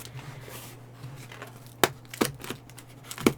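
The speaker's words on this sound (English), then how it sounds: "I might have to open it from this side if I get my little scissors." Small scissors cut open a yarn parcel at close range, giving several crisp snips spaced irregularly over a low steady hum and faint rustling.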